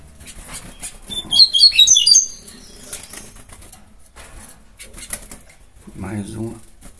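A female songbird flutters its wings and chirps on a low perch inside a cage, a burst of flapping with high chirps in the first seconds, then quieter movement as someone talks nearby.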